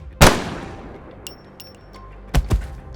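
A loud, sharp gunshot from a slug round in a Warhammer 40,000 audio drama, followed by faint metallic clinks and then a pair of closer thumping shots, all without voices.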